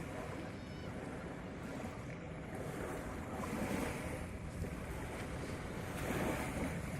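Waves breaking where a river mouth meets the sea at Leupung, Aceh, forming a continuous rushing surf with heavy wind noise on the microphone, steady and fairly close.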